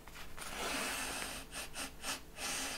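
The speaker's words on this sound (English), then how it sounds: "let's just have a quick little sniff there." Several quick, close nasal sniffs of an old vintage paperback science fiction book with browned pages, breathy and faint, coming in short bursts.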